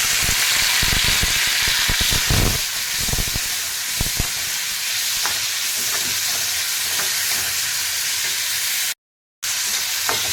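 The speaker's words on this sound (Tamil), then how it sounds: "தக்காளியை போட்டு நல்லா வதக்கணும்" Tomatoes and onions frying in a pan for Tamil arai keerai kadaiyal, a steady close sizzle and hiss with repeated scraping stir strokes, louder clatter around the first few seconds and a brief dropout near the end.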